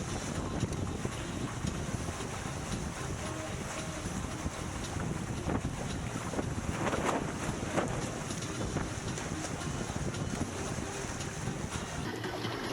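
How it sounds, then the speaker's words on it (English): Strong sea wind gusting around a sailing boat on the west coast, a continuous rushing roar with buffeting microphone wind noise throughout, no voices. "Finally some great gusts here."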